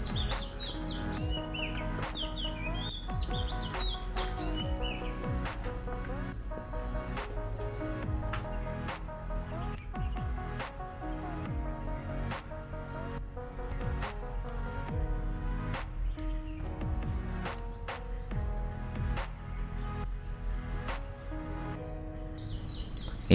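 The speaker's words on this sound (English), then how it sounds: "you can hear a whole lot of birds chirping" Many birds chirp and sing at once in a resort garden in Dehradun, India, a steady layered chorus of overlapping calls with sharp repeated chips running throughout, close and fairly loud, with no talking.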